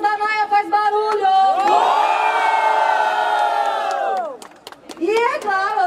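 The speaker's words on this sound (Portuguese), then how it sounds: "Quem gostou das rimas da Naya, faz barulho!" Crowd at a women's rap battle final roars with loud cheering, whoops and shouting, swelling into a sustained massed yell for several seconds before dropping off, then rising again briefly, with an emcee's voice heard around it.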